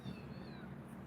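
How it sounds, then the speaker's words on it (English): A cat meows faintly a few times over a low, steady background hum, heard outdoors at Kaneana cave. "the cat, if you guys can hear that,"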